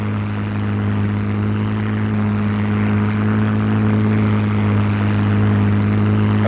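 P-51 Mustang warbird on its takeoff run, a steady deep droning engine roar with a strong low hum, loud and unbroken throughout, with no talking.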